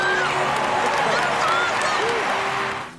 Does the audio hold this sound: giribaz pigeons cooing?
no